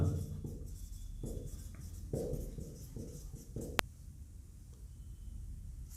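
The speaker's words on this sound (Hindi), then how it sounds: "तो मैं यहां लिख देता हूं, आप नीचे लिख देना इसके" Pen writing by hand on paper while working a Class 10 maths graph problem, a steady close scratching with short strokes and pauses, one sharp tick near the end, no talking.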